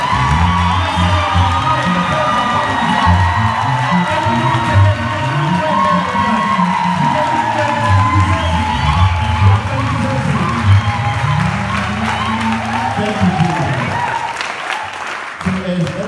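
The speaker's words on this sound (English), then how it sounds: "Can someone just raise on his feet and clap his hands and make it?" A church congregation at a Sunday service cheers, whoops and claps hands together in a loud, continuous, dense burst of crowd noise, with shouts rising over steady applause throughout.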